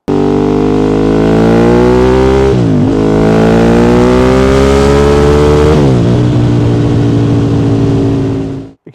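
A Ducati 848 sports motorcycle engine revs hard and close, a loud harmonic howl that climbs in pitch, drops sharply twice between throttle blips, then cuts off at the end.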